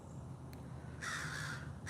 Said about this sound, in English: good morning, Crow